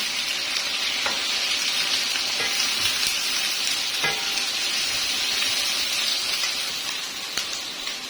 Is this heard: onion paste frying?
yes